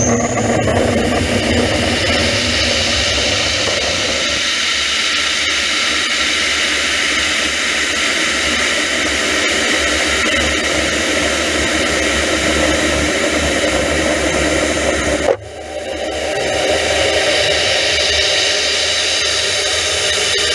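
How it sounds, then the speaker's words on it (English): Sounding rocket launch from a 2014 flight, a loud continuous roaring rush of noise that holds steady for about fifteen seconds, briefly cuts out, then resumes. "we're going to present to you a video of a launch that took place in 2014 so that you can see the experience of a sounding rocket flight"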